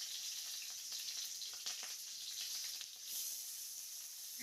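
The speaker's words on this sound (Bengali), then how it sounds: "রসুনটা কিন্তু আমাদের তেলের সঙ্গে একটু ভালো করে ফ্রাই করে নিতে হবে।" Chopped garlic, ginger and onion frying in oil for Bengali masoor dal, giving a soft continuous sizzle with light crackles, fairly quiet and steady, ending in a brief clatter.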